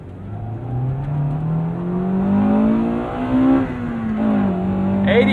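A 1998 Acura Integra Type R engine revs up steadily, its pitch climbing, dipping briefly, then rising again, loud and close throughout.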